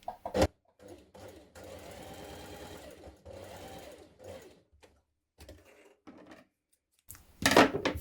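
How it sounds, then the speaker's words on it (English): A sewing machine runs in short bursts, stay stitching along the side edges of jumpsuit back pieces between notches, with pauses, clicks of the mechanism and a sharp handling clatter at the end. "we're going to do this stay stitching just here at the sides between the notches here and here"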